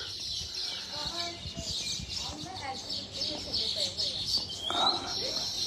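Small birds chirp and tweet in quick, high bursts around their self-built nests on a prayer mountain. The calls are steady and moderately close, and someone talks over them throughout.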